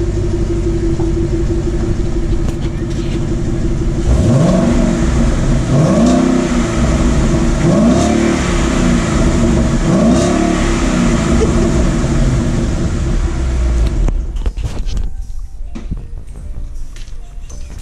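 A loud cammed V8 Mustang GT engine idles with a deep rumble, then revs sharply four times in succession through loud exhaust mufflers before cutting off near the end.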